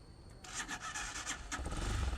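A cold motorcycle engine cranks and catches, sputtering unevenly before settling into a low, rough idle; faint background, no voices.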